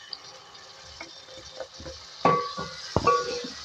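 Two medium tomatoes fry in a pan with cumin for dal, making a soft sizzle under stirring, with two sharp metallic clinks of a utensil against the pan near the end.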